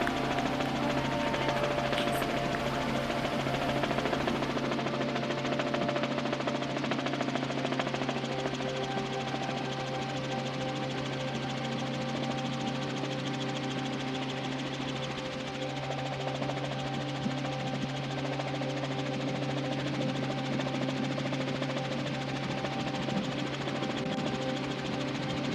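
Helicopter taking off in the distance, a steady droning rotor and engine roar that continues unbroken throughout, with no talking.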